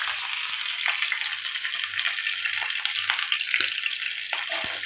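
Curry leaves sizzle in hot oil for an okra stir-fry, a loud, dense crackling hiss that holds steady throughout, close to the pan, with no talk.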